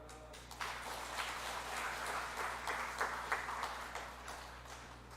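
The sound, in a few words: church congregation applauding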